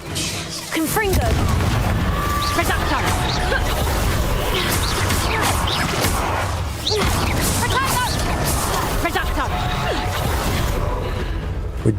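Confringo fire-blast spell from Hogwarts Legacy: two sharp explosive booms several seconds apart, each bursting out of a dense, noisy backdrop of combat clatter.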